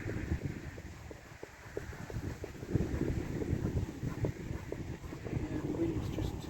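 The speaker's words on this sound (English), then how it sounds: "We've got a bit of a wind today, which is not helping me with smoking them." Wind blows outdoors at a cabin, buffeting the microphone with a continuous, rumbling gusty roar that swells and eases, and a voice is faintly mixed in.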